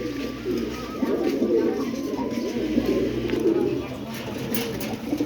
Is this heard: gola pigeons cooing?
yes